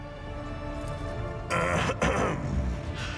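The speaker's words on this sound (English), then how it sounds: "After clearing his throat, Ulfar adds in a more ordinary voice" A male character in the Rogue Trader video game clears his throat with a rough, gravelly burst of effort, loud and close, set over a low steady game soundtrack.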